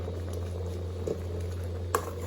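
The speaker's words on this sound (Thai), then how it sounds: "มันเดือดแล้วนะคน เดือดแล้ว" Liquid boils in a cooking pot, giving a steady bubbling texture over a constant low hum, with a few soft pops and one sharper pop near the end.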